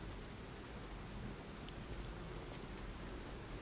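Heavy rain pours steadily on a rainy night in a city plaza in the video game Lies of P, a dense, even hiss with a low rumble underneath and no voices.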